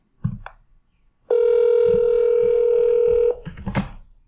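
A telephone ringback tone during a SIP softphone call, one steady beep lasting about two seconds between short clicks and soft handling noises.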